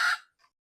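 A chicken perched up in a tree gives one short, fairly close cluck or squawk, followed by a faint second call as it trails off into quiet.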